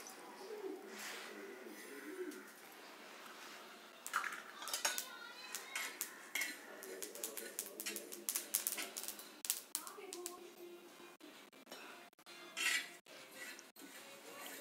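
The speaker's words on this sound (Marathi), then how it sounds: "असे तडतडेपर्यंत आपल्याला तीळ भाजून घ्यायचे आहे" Sesame seeds roasting on a hot griddle crackle and pop close by in quick, irregular bursts of sharp clicks, with occasional louder snaps and no voices.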